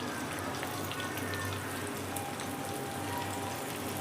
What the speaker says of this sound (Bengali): এবার আমি চিকেন পকোড়াগুলো এক এক করে নেব নিয়ে এবার তেলের মধ্যে ছেড়ে দেবো